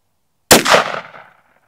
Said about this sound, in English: we shot it with the FMJ and not the green tip this time